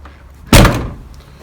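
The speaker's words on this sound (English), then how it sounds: "the door rattles like you just heard" The bare door of a Classic Mini Clubman under restoration shuts with a single sharp, loud thunk, then a short rattling decay dies away quickly.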